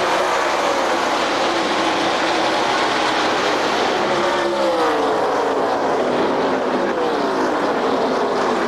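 A full field of NASCAR stock cars roars off at the green flag of the 2002 Tropicana 400 before 75,000 fans, a loud, steady, dense wall of engine noise with passing whines and no clear speech.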